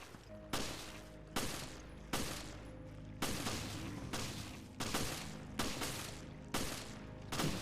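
Parker firing a gun at a huge creature in Resident Evil Revelations: nine evenly spaced, sharp shots roughly a second apart, each with a short echoing tail, moderately close with no talk.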